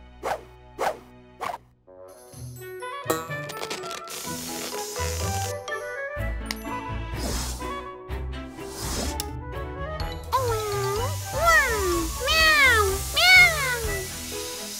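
A cartoon cat meows repeatedly amid music and sound effects, with several drawn-out, rising and falling meows near the end.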